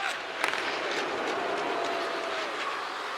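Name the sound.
home hockey crowd jeering a player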